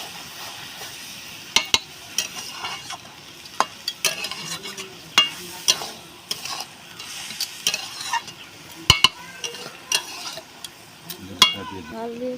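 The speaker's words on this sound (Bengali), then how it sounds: "এবার একটু নেড়ে নিই।" Chilli powder and spices fry in a pan while being stirred with a utensil, giving a soft continuous sizzle broken by irregular scraping clicks and taps against the pan, close up, without talk.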